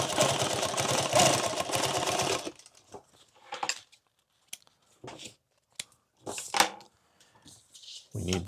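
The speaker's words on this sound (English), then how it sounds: "Let's just go ahead and hem this over one more time." A sewing machine hems a microfiber glasses pouch, running in one loud, steady burst, then stopping. Scattered clicks, rustles and handling noises of the fabric follow.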